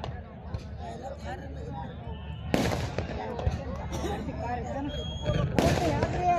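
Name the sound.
fireworks at a wrestling match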